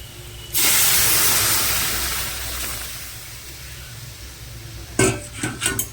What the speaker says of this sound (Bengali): এইবার দিয়ে দেবো ডালটা, ঢেলে দেবো।